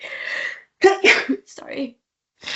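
A single loud sneeze right up close, followed by a brief spoken word.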